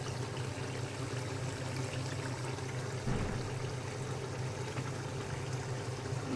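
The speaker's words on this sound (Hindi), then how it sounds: "अब इसमें मैं पानी डालूँगी" Water pours steadily into a pan of fried masala for tikka biryani, a continuous close rush of liquid that holds its level throughout with a brief swell near the middle.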